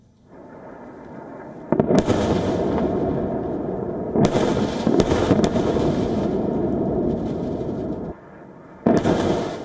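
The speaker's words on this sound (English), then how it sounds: "The Israeli army released footage showing what it claimed to be strikes on Hezbollah launchers and terrorist infrastructure sites." Israeli airstrikes hit southern Lebanon near a border village. Several loud, sharp blasts burst over a continuous low rumble, separated by gaps of a few seconds.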